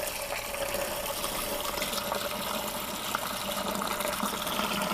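Liquid pours steadily into a turkey deep fryer pot, a continuous, even gushing wash that stays close and fairly loud, with no talk over it.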